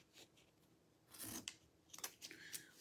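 Scissors make quiet, close snips cutting paper flaps in a Bible, in a few short bursts spaced across a near-silent background.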